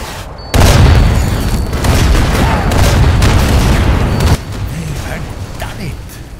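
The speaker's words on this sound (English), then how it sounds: "Captured artillery destroyed the tank and bought us another chance." In the Sniper Elite VR video game, captured artillery fire destroys a tank, and a heavy boom is followed by several seconds of loud rumbling blasts before the roar drops to a lower, fading rumble.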